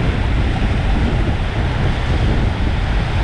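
Strong sirocco wind sweeping a beach, with waves breaking on the shore, a loud, continuous roar and rumble of gusts buffeting the microphone over the surf, with no pause throughout.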